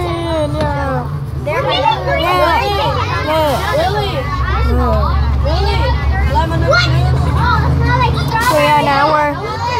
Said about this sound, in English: So yeah, now we're on the bus.